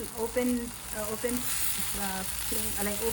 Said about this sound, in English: so it was still frying in open